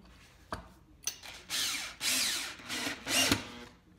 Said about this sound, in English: I'm gonna just drill down just a little bit here